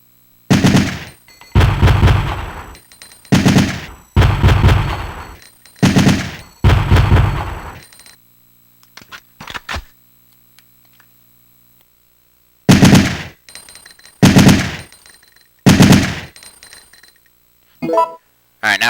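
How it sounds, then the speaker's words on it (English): A weapon in Resident Evil 3: Nemesis fires in short loud bursts, a series of sharp repeated shots with brief gaps, a pause midway, then more bursts and a few lighter clicks near the end. "Manual mode is like a 3-bullet burst. So, first I'll test it in manual mode."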